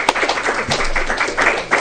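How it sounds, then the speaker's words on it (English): A small group applauds at a big book study meeting, a short burst of scattered clapping mixed with voices and a cheer, fairly close and loud. "Let's give a round of applause."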